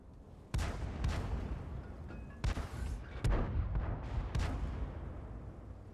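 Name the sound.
tank gun shots in a tank video game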